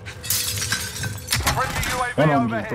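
Glass shatters in a shooter video game, a bright crashing burst amid game sounds while players talk over it.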